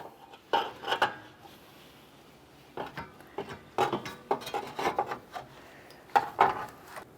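A car's condenser is slid down into place by the radiator: soft scraping and rubbing bursts with small knocks, several short grouped scuffs, close and quiet.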